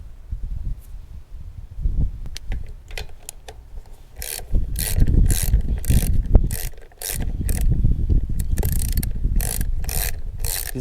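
Two 10 mm nuts are worked off a Troy-Bilt riding mower near the carburetor with a ratchet, which makes quick repeated clicking bursts over metallic scraping and rattling, close up and moderately loud.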